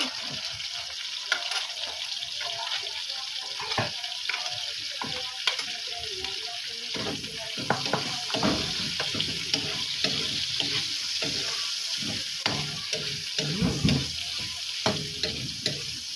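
Chopped onions frying in a hot pan, a steady loud sizzle with stirring scrapes and clinks throughout, no voices.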